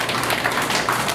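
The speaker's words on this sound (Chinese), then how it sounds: "掌声欢迎一下我们最前面的人" Audience at a public lecture at a district office welcomes a speaker with applause, a dense steady patter of hands filling the room for just over a second.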